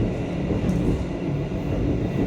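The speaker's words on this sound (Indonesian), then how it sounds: "KA Gajayana adalah kereta malam" Steady low rumble of the KA Gajayana night train running, a continuous dense roar heard from inside the carriage, even and unbroken with no voices.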